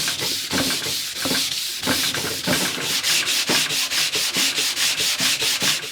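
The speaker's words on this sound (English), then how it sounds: "all I've got to do now is just sand them up and get them ready to recoat" Parts of a Philips B4X23 radio are sanded by hand to prepare them for recoating: loud, rhythmic back-and-forth rasping strokes repeat steadily up close, speeding up toward the end, with no voices.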